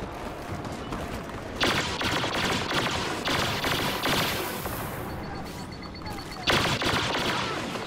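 Turret gunfire rattles in Star Wars Battlefront, rapid bursts of shots layered over constant battle noise, with sharper loud volleys around the middle and near the end.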